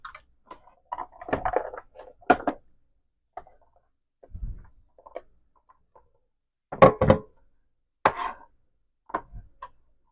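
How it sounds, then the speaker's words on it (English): Salsa vegetables and garlic being chopped by hand with a knife on a cutting board: scattered, uneven knocks and taps with quiet pauses between, close and clear. "I might pull these back out and just try to chop them a little smaller by hand"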